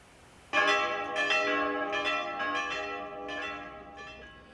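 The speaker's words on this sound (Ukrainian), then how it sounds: "В неділю і свято кличе нас церковний дзвін до церкви" A Ukrainian church bell rings out suddenly and keeps pealing in a steady rhythm, its strokes lingering and overlapping in a rich resonant tone.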